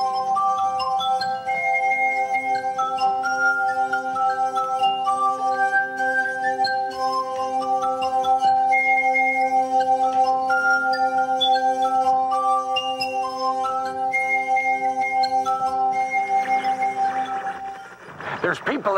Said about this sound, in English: Get your fingers good and let it go around the rim.